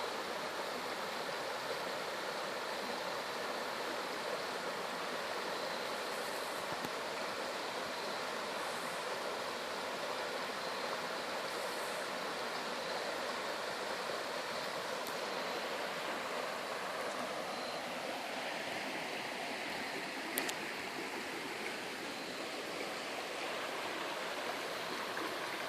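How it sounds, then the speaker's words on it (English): Fast-flowing creek water rushing continuously, a steady broadband hiss of churning water with no voices, holding an even level throughout. "there's a little bit of fast water running up in there."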